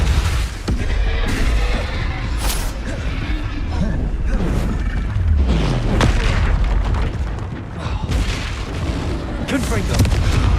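Repeated Confringo blast-spell explosions in the video game Hogwarts Legacy, booming bursts scattered across a dense, continuous roar of combat effects and music, loud and close throughout.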